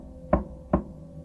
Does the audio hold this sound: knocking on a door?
yes